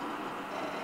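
Minecart rolling along rails in the video game Minecraft, a brief, steady rumbling rush of noise with no distinct clicks, heard alone.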